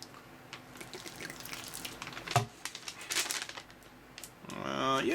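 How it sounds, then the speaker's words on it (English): Water poured into a Swedish 24-hour MRE ration bag, a soft trickling and splashing with faint crinkling of the pouch, moderately close, ending in a brighter pouring rush near the end. "let's pour on the water and see what happens"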